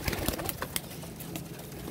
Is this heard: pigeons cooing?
yes